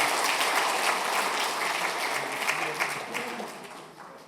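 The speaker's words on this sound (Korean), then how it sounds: "큰 박수로 축복해 주시죠" Church congregation gives a round of applause during a Sunday worship service, a close, full burst of clapping that carries on for about four seconds and eases off slightly toward the end.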